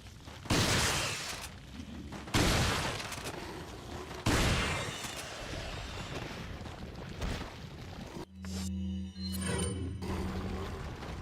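Weapon fire in Resident Evil 4: several loud, sharp blasts spaced a couple of seconds apart, each trailing into a rough decay, followed by a shorter burst of clattering impacts near the end. No talking.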